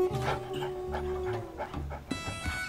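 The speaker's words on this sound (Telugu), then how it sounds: "కమలమ్మకి ఆ కుక్కతో ఒక బంధం ఏర్పడింది." A dog in an animated story yips and whimpers in short repeated bursts over steady background music, close and fairly loud throughout.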